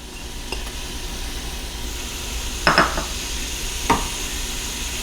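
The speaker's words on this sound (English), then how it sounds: "I'm just going to fry these onions for a couple minutes." Onions and red cabbage fry in hot oil in a pan, a soft continuous sizzle with a few utensil clinks and a scrape of stirring around the middle, heard close up without any voices.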